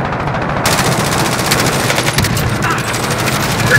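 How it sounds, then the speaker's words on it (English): Rapid automatic gunfire fills a Call of Duty match as several players shoot at one another, dense bursts of shots rattling loudly and continuously after a brief quieter start. "They're shooting all at each other."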